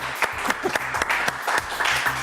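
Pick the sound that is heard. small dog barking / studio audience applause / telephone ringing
studio audience applause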